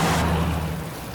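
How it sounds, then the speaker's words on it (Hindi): Steady rain hiss with a low rumble underneath, continuous and fairly loud, slowly easing toward the end, in a Hindi-dubbed South Indian film. "ऊपर से इतनी बारिश है पूछो मत।"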